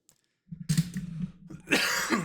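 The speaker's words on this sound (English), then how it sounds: "Sorry for all the coughing tonight" A few rough coughs and throat-clearing sounds, close and fairly loud, with a short pause between bursts, from a person playing The Last of Us Part II Remastered on PS5.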